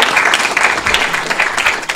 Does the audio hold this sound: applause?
yes